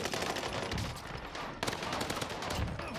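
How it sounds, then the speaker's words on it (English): Two submachine guns fire in COD MW2 Warzone Rebirth: continuous, dense rapid bursts of automatic gunfire that stay loud and close for the whole stretch, with a brief break in the middle before the firing resumes. "This went crazy with two submachine guns"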